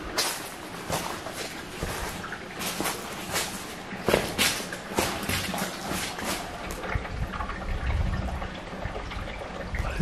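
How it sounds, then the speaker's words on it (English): Faint water trickles and gurgles steadily near a cave at a rock climbers' park in Arkansas, sounding like water draining through a pipe, with soft irregular knocks and rustling over a low rumble. "It's like water draining through a pipe."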